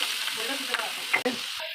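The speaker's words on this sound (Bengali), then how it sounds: "এই দেখো বাঁধাকপিটা ভাজা হচ্ছে" Cabbage frying in a pan gives a steady hiss of sizzling, with a couple of soft stirring scrapes near the end, heard up close.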